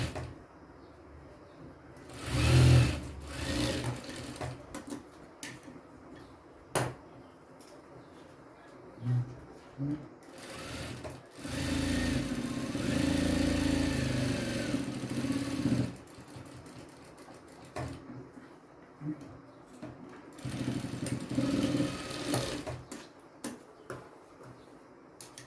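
A sewing machine stitching a blouse runs in three separate bursts of differing length, fairly close and moderately loud, with quieter handling sounds and a little speech in the pauses between runs.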